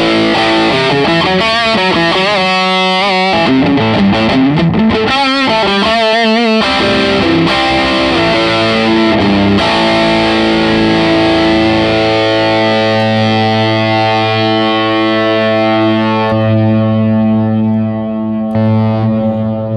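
An electric guitar plays through an overdrive distortion pedal on a crowded pedalboard, loud gritty chords and sustained notes ringing out alone, shifting between strummed bursts and long held tones that fade toward the end.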